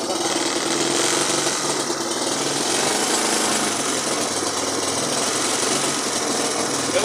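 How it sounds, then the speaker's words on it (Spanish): Motorcycle engine running on stale, bad fuel, held at revs by hand and misfiring, giving a dense, rough, continuous buzzing roar with uneven sputters, loud and close throughout. "acá estoy probando con combustible nuevo, pero mirá cómo falla."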